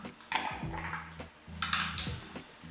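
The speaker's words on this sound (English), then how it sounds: "Stir that up a little bit." A spoon scrapes and clinks around a pot of chicken and dumplings with pimentos, several short metallic knocks and scrapes close up in a brief burst of stirring, with no voices.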